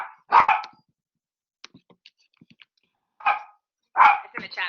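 A dog barks indoors in loud, close bursts, first a double bark, then a pause with faint yips, then more barks near the end.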